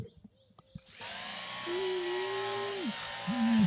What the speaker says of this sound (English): Get the drill in here.